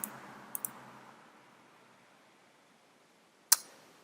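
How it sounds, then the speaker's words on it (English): A few sharp computer mouse clicks while stepping through a software installer: two quick clicks close together near the start, then a single louder click after a quiet pause. "You can basically just click next."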